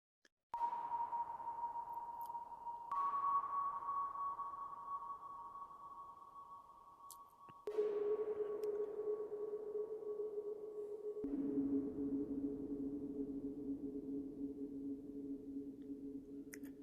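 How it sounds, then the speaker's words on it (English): Four separate pinging synthesized tones, randomly triggered, strike one after another at slow, uneven intervals, each ringing out in a very long, lingering generative reverb that overlaps the next. "plug sounds that are randomly triggered and are being played into a very long sounding reverb"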